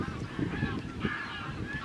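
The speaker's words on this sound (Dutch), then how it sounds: "Ik ga een clubje met ganzen voorbij." A flock of geese honks repeatedly at close to mid distance near a boat on the water, their overlapping calls forming a steady, irregular chorus.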